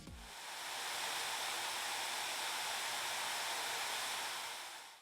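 An ASUS Zephyrus G14 2021 laptop with its fans at maximum speed gives a steady, loud, airy whoosh that rises quickly and holds evenly for about five seconds.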